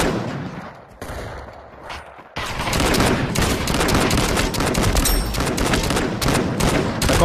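Rapid automatic gunfire in a video game erupts after a quieter opening and continues as a loud, dense, sustained burst of shots to the end.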